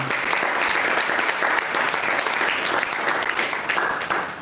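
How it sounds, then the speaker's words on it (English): A live audience at a Shapers Network Africa session bursts into steady, dense applause, a continuous wash of many hands clapping up close and filling the whole stretch with no voices standing out. "Please, let's give a round of applause to them."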